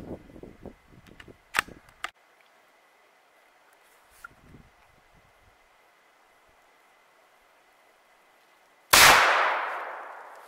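A single sharp, loud rifle crack from a 17 HMR fired at a snowshoe hare near a cabin rings out near the end, preceded by faint scattered clicks and rustling in otherwise quiet surroundings.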